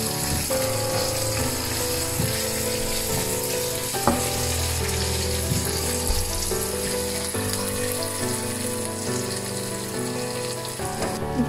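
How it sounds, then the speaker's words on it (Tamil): Onions sautéing with fennel seeds, fenugreek and curry leaves in oil for a Jaffna-style fish curry with mango, a low steady sizzle under a continuous bed of background music, with occasional faint clinks. "இப்படி 2 நிமிஷமாக வதங்கி கொண்டிருக்குது"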